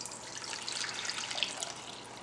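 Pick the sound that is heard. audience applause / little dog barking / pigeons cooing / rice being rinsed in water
rice being rinsed in water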